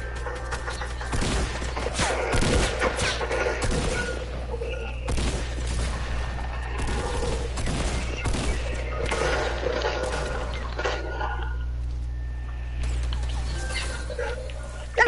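Gunfire and impacts during Fortnite gameplay, a string of sharp cracks and booms at irregular intervals over a steady low game drone, tapering off into a quieter stretch near the end.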